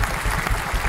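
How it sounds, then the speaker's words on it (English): A live audience at a skateboarding talk show breaks into a round of applause, a quick burst of dense, close clapping. "Round of applause"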